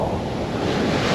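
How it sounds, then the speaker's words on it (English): Rough ocean waves break and wash onto a beach with blue water during a cruise port stop, a loud, continuous roaring surf mixed with heavy wind buffeting the microphone. "The waves are rough, look. Not that one, but the other ones, here they come."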